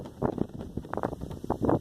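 Strong gusts of 25 to 30 miles an hour buffet a microphone outdoors, producing loud, uneven low rumbling thumps in rapid bursts.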